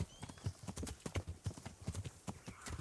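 Horse hooves clip-clop in a steady, rhythmic gait in Kingdom Come Deliverance, the beats close and distinct with no talk over them.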